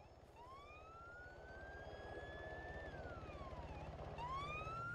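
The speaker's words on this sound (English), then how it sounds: "Is that Dashant on the police car?" Wailing police car siren in a video game, rising and falling in long sweeps over a steady low engine rumble, loud and close throughout with no talking.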